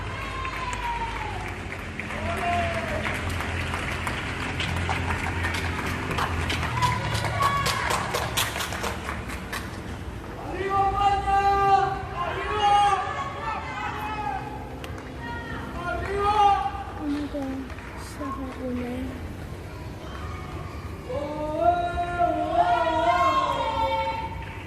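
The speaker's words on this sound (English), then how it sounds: "we heard all this like clapping and cheering, and it was absolutely beautiful" Neighbours in Spain during the coronavirus lockdown clap and cheer from surrounding homes, a steady wash of distant applause with whistles, shouts and voices rising and falling across the street, with people talking throughout.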